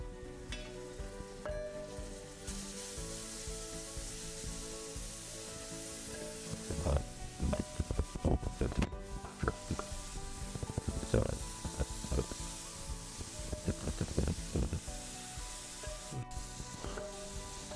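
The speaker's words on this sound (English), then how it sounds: "After putting ginger garlic paste, fry that for a while so the rawness of ginger garlic will go." Ginger garlic paste sizzles in a hot pan for vegetable dum biryani, a constant fry hiss broken by repeated crackling pops and scraping stirs that grow busier midway, with no voices.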